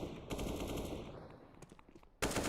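AK rifle gunfire in a Counter-Strike esports match, a sustained automatic burst followed by scattered shots and a fresh loud burst at the end, with no talk.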